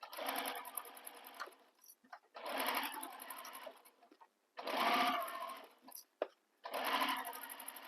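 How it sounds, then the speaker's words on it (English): A sewing machine stitches a bag together in four loud bursts of running, each lasting about a second and a half, with short quiet pauses between them and no talking. "So use your stitch length that you use for sewing bags together."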